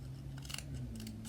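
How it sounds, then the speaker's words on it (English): Scissors snip through paper in a few quick, soft crisp cuts, close up and faint, with no voices. "I'm going to turn my paper, and I'm going to cut in here"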